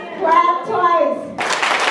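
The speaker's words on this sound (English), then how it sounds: "Clap twice." A school audience at a motivational speaking event answers a call with a short burst of clapping that comes right after a voice and dense, loud, packed claps close by.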